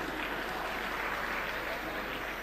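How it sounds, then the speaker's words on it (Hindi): Audience at a poetry recital applauding, dense, even clapping that fills the whole moment without a break. "इस पर ताली बजानी पड़ती है"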